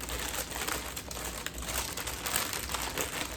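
Crinkly plastic packaging around a yarn fade set rustles and crackles continuously as it is handled close by, a dense, steady crinkling with no pauses.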